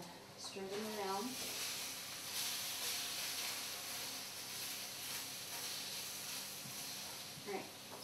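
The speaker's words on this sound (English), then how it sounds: "You hear my potatoes singing back there." Potatoes fry in oil in a pan for a Spanish tortilla, giving a steady broad sizzling hiss, with a person speaking briefly over it near the start and near the end.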